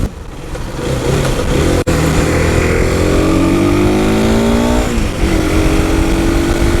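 A 2021 FB Mondial HPS 125 Euro 5 motorcycle accelerates hard and close, its engine note climbing steadily, then dropping briefly at each gear change before rising again, loud and continuous with no talking.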